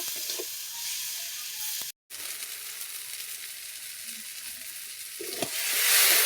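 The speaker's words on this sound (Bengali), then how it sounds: "এবার হালকা করে আমি নেড়ে দেবো যতক্ষণ না মশলার কাঁচা গন্ধটা বের হয় ততক্ষণ আমি নাড়তে থাকবো" Spice masala fries and is stirred in a pan for a rupchanda fish jhal curry, a steady nearby sizzle with light stirring scrapes, a short silent break, and a swelling hiss at the end.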